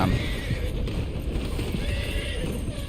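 A horse neighs in the Western video game Red Dead Online, a loud whinny over dense hoof clatter and rumbling game noise, close and continuous.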